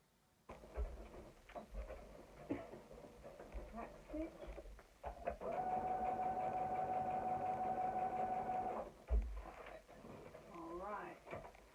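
A sewing machine stitches fabric, running in a steady mechanical whir that rises into a sustained hum mid-clip, with shorter bursts before and after and someone talking at times.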